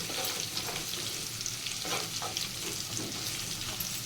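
Cumin and spices temper in hot oil for mango pickle, a faint continuous crackling sizzle with light bubbling, close by and steady throughout.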